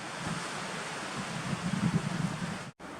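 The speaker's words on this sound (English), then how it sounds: "And it's really windy this morning." Strong wind at Bear Lake Trailhead in Rocky Mountain National Park, a broad steady roar buffeting the microphone with gusts swelling midway, close and loud, no talk.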